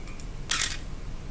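An in-game camera in The X-Files Game photographs a license plate with a single quick, crisp shutter snap, set against quiet background ambience.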